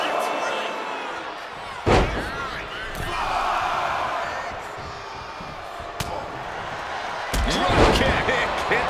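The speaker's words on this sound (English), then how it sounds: "Drop kick. Hits the mark." A dropkick lands with a sharp slam in the WWE 2K25 wrestling video game, a single loud thud near two seconds amid steady arena crowd noise, with commentary voices and further impacts later.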